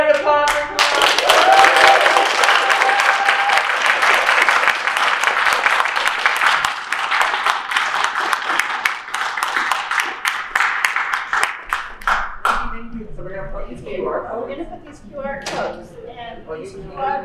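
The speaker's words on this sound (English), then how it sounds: "Everybody applaud for Kamau." A community teach-in crowd in a library claps for Kamau, with many hands clapping together for about twelve seconds before it thins to scattered claps and a few voices.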